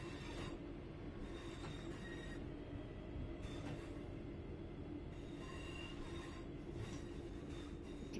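A Class 323 electric train in Centro livery runs in the Train Sim World 4 game near Barnt Green, giving a continuous low rumble of wheels on rails with recurring high squeals, steady and close, without speech.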